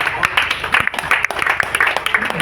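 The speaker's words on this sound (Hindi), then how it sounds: "खड़े होकर तालियां बजाइए।" Guests at an LIC 67th anniversary honour ceremony clap while standing, a close, somewhat uneven patter of hands with individual claps standing out, and voices and chatter mixed in.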